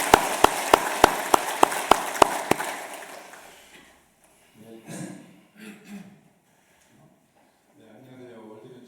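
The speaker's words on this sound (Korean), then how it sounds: "우리 박수로 환영하죠." A Korean church congregation claps to welcome guests at a Sunday service. About ten sharp, evenly spaced claps ring out close and loud, then fade, and quiet voices talk afterward.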